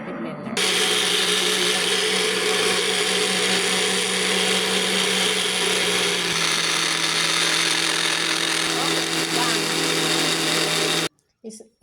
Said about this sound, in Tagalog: takpan na natin ulit at i-blender.